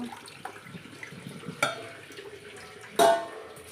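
Quiet trickling water with two sharper splashes as it is poured, fairly close, over leafy amaranth greens to rinse off sand, over a soft background.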